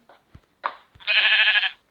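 A single sheep bleat from the video game Minecraft, a short nasal baa lasting under a second, preceded by a few quiet clicks and soft game sounds.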